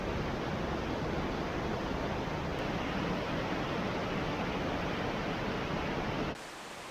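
Loud, steady roar of rushing water in the Höllentalklamm gorge in the Alps, a dense continuous broadband wash that cuts off abruptly near the end.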